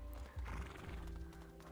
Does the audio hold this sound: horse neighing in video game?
yes